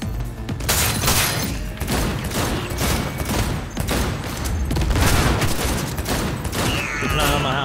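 Dense, sustained gunfire from a Cyberpunk 2077 firefight, with rapid bursts and heavy thumps layered into a loud, continuous barrage.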